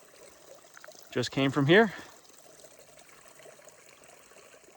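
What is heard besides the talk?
creek water flowing on the Pacific Crest Trail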